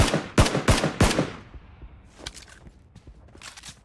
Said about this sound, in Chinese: 我打开单发模式向其点了过去